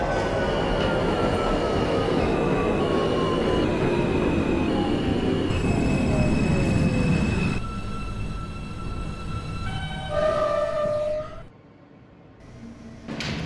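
An R160A-1 M subway train in the openBve simulator rumbles along the track with a long descending wheel squeal, then slows with tonal motor whines and a brief hiss before near quiet.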